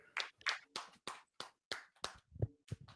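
A group claps in unison in short sharp bursts, about ten evenly spaced claps with a few deeper thuds mixed in, loud and close with no talking.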